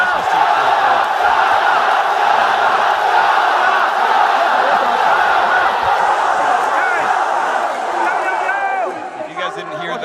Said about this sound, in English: If you guys didn't hear that, that was the crowd.